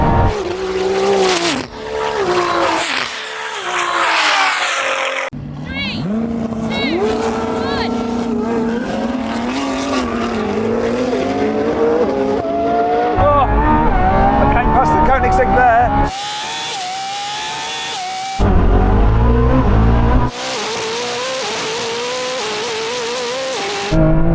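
Drag racing cars roar past at speed, engines revving loudly and rising in pitch through gear changes, with a sustained engine drone and people talking over it.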